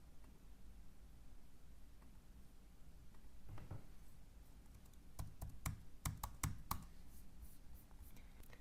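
Fingers typing values on a computer keyboard, with soft scattered key clicks that build into a quicker, louder burst of taps toward the end.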